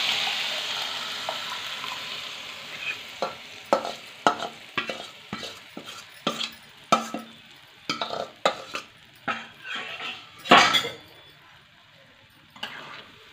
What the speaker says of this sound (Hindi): अब इसे धीरे धीरे चलाते चलाते इसे पका लेंगे।